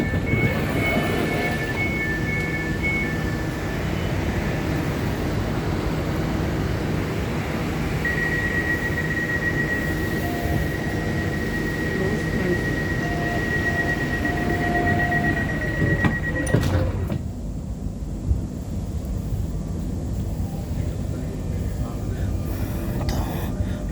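Transperth TCL C-series electric train, car 3133, running between stations on a Perth suburban line, with steady loud broadband rumble and a sustained whine before a sudden drop near the end; voices talk over it.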